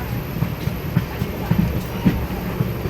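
A passenger train rolling in to New Alipurduar station after running late, its wheels giving a steady low rumble with regular rhythmic clunks, close and continuous, with no one speaking.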